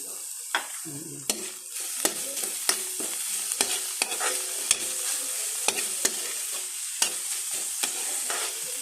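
Egg frying and being stirred in a hot pan, scrambled with a little salt, giving a steady close sizzle broken by repeated sharp scraping and tapping of the utensil against the pan.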